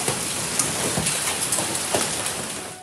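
Heavy rain pours down during a hailstorm in Pakistan, a dense, loud, continuous roar of water hitting surfaces, with a few sharper impacts standing out and no voices.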